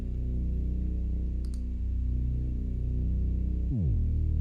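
An R Bass plugin is switched onto an 808 bass in a mix, and a deep sub-bass drop bends in near the end beneath a steady loop of low tones, loud and close with no talking.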